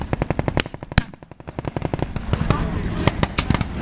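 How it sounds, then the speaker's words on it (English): Rapid bursts of heavy gunfire and cannon blasts at a WWII re-enactment, loud and close, a dense rattling stream of reports with sharper booms punched in throughout. "You can feel that cannon going off in my chest."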